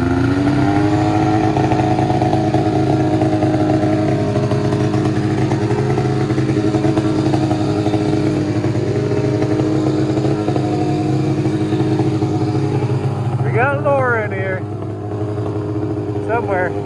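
A snowmobile engine roars loud and close throughout while riding, holding a steady rising drone, with faint voices briefly heard near the end.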